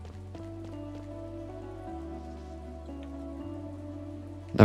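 Rain falls in the video game Chained Echoes, a soft steady patter running under tonal game music, with a brief louder burst at the very end.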